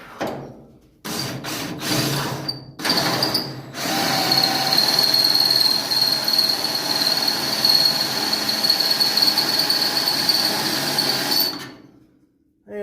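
Power drill boring a hole into the body of a 1966 Ford Mustang fastback during rear suspension installation, a few short bursts followed by a long, loud continuous grinding whine with a high squeal, then stopping.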